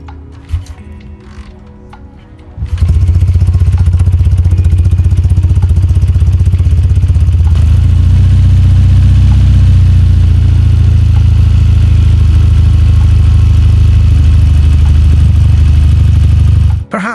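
A Triumph Bonneville, the classic British motorcycle, starts after a brief quiet moment and then idles loud and close with a steady, throbbing low rumble that runs unbroken to the end.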